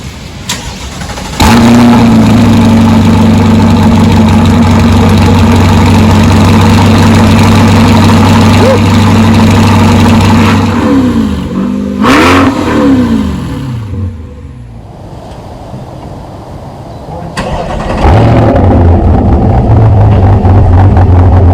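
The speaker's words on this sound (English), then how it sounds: "Let's hear what a cold start sounds like." A C8 Corvette with a touring exhaust fires up cold with a loud bark, settles into a high idle, then gives a couple of sharp revs before dropping back and idling again, loud and close with no talking.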